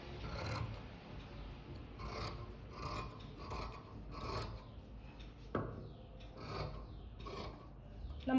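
Scissors cut through kurti fabric for a top, a series of soft rhythmic snipping and rasping strokes, close and fairly quiet, repeating about once per second.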